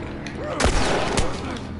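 Gunfire in the video game The Last of Us, two sharp shots about half a second apart over low ambient game rumble, with a voice speaking briefly.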